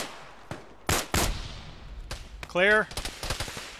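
Gunfire in the Arma military video game, several sharp shots and short bursts at varying distances, with a brief electronic tone in the middle and a voice speaking over part of it.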